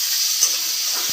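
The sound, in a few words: stirring potatoes frying in a pan on a gas flame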